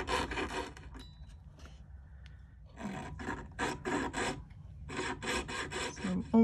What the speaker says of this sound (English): First I'm gonna make a groove to keep the saw blade in.